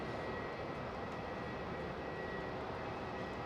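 A jet airliner takes off from runway 27 at Melbourne Airport, a steady broadband engine roar holding at a moderate, somewhat distant level throughout, with no voices.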